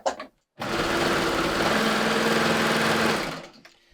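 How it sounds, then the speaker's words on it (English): A serger sewing machine runs steadily for about three seconds as it chains off past the end of a seam on a stretch-pant waistband, with a brief clack just before the motor starts and a quick wind-down at the end. "I'm going to put my presser foot back down and I'm going to chain off."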